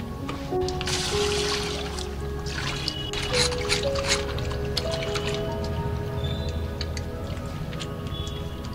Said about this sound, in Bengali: এবার আমি সব মাছ ধুয়ে নেব।